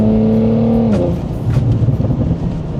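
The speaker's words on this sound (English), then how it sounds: "A lot of people say that V6s sound trumpety, bro, but this pop sounds crazy." An Audi RS5 V6 engine hums steadily, then drops off as the throttle lifts, followed by a burst of crackling exhaust pops and burbles.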